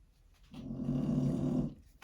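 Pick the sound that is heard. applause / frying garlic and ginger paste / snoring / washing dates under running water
snoring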